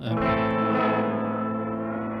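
A sustained guitar tone heavily processed through pedals, with distortion and echo, a dense wash of overtones slowly thinning into white noise oscillations, loud and continuous with no voices.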